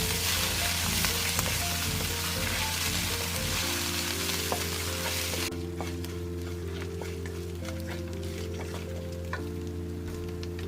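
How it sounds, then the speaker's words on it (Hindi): A paste of garlic, ginger and green chili fries in hot oil for a karhi recipe, giving a steady, close sizzle with crackles throughout and a background hum. "1 खाने का चम्मच लहसुन, अदरक और हरी मिर्च का पेस्ट शामिल करके 1 मिनट के लिए फ्राई कर लें।"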